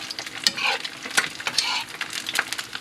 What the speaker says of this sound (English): it's kind of like a shallow fry in a sense